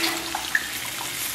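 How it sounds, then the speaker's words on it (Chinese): Water poured into a wok to rinse it while cooking spicy stir-fried beef intestines, a short steady splashing rush of water, close and alone. "然后拿水涮一涮"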